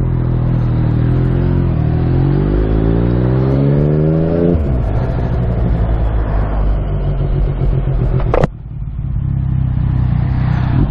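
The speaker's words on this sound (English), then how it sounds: "A lot of cars as well." Road traffic during a Yamaha XSR900 motorcycle ride on a busy Easter Sunday: loud engine drone with a rising rev and gear changes, wind rush throughout, and a sharp knock near the end.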